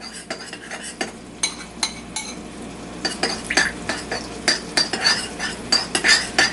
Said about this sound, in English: Trying to make sure the cornstarch gets dissolved in, nice and dissolved in here, in case you're wondering what all the scraping is.